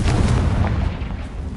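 A Confringo spell explosion in a video game erupts as a loud, close boom with a rumbling low-end burst that fills the short moment and slowly fades.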